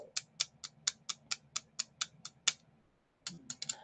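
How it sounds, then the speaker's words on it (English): Two Bakelite bracelets clack together in a quick, steady run of about a dozen sharp, close clicks, then a short pause and a few more rapid clacks, with no talking. "Now, here are two bracelets that are Bakelite. Can you hear the difference between the clacks?"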